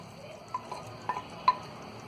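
Paneer and fried onions go into a pan for paneer do pyaza and get stirred, a few soft spoon scrapes and light taps against the pan over a quiet background.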